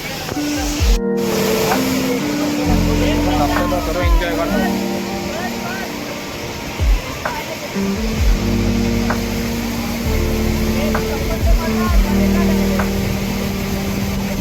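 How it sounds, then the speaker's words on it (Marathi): Tahuli waterfall at Tawdi near Ambernath running with strong water pressure, a constant broadband rushing roar and spray heard throughout while someone talks over it. "तावडी इथला असलेला हा धबधबा. आज पाण्याचा प्रेशर पण भरपूर आहे."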